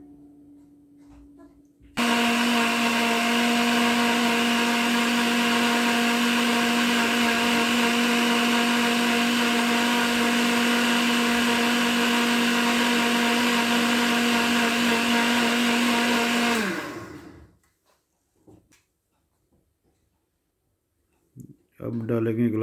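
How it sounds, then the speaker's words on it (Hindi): Blender grinding a banana and mango milkshake with sugar, a loud steady whine running about fifteen seconds before winding down, followed by quiet clicks and handling sounds. "चीनी डाल के भी इसको अच्छी तरह ग्राइंड कर लेना है"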